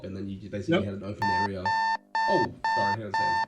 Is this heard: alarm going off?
yes